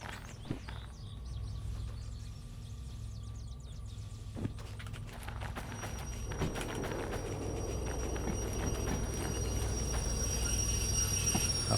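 Train cars roll over rails in the Derail Valley railway game, with a steady low rumble, rhythmic wheel clicks and occasional squeals growing louder and denser over the stretch.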